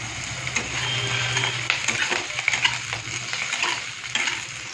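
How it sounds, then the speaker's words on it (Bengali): Potatoes frying in hot oil in a village-style kitchen, a dense close sizzle with repeated scraping stirs and utensil clinks over a faint low hum. "আমি এবারে আলুগুলো ভেজে নেব"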